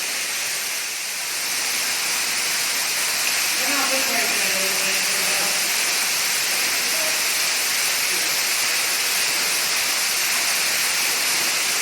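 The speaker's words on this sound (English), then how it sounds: "when we found this waterfall" Steady broadband rush of an underground waterfall inside Smith Hollow Cave, continuous and fairly loud throughout, with a voice briefly audible partway through.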